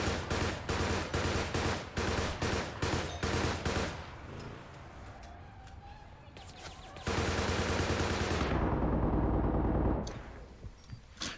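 Rapid hip-fire gunshots from a weapon in the online shooter APB: Reloaded, loud sharp bursts in a fast rhythm during the first seconds, then sparser shots and a sustained dense volley of fire near the end.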